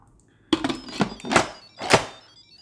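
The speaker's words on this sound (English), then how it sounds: "So attach said lid." An Instant Pot pressure cooker lid being fitted on, giving a cluster of close plastic-and-metal clunks and clicks, one sharp knock followed by several firmer thumps over a couple of seconds.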